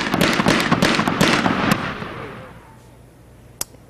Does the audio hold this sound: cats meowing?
no